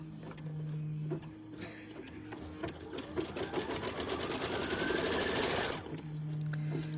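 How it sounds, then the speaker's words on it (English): A sewing machine stitches a seam on a Wall Flower quilt block, its needle running in a steady, dense whir that builds and then stops abruptly, with a quieter mechanical hum before and after. "we are going to stitch our next seam"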